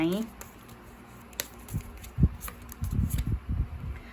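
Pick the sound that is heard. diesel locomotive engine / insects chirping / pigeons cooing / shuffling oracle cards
shuffling oracle cards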